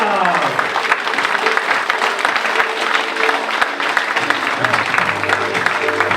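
An audience at a political campaign meeting in Essey-lès-Nancy claps steadily and loudly throughout, with a crowd murmur and a voice talking over the applause.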